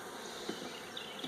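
Queenless, broodless honey bees buzzing around an open hive, a steady faint hum with a few brief louder passes of individual bees.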